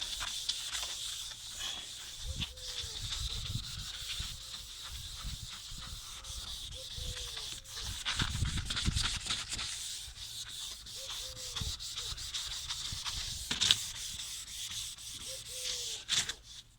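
An 800 grit sandpaper being rubbed over a cracked, yellowed plastic headlight lens, producing repeated close, raspy back-and-forth sanding strokes in an uneven rhythm, with a faint background hiss and a few brief squeaks.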